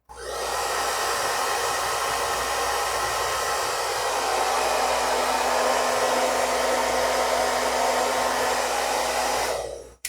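A heater connected for a current-sensor (SCT013-100A) demonstration runs at its first heat setting, giving a steady, loud blowing whoosh like a hair dryer that starts abruptly and continues evenly for about ten seconds before stopping.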